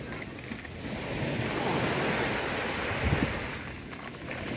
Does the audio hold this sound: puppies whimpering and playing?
no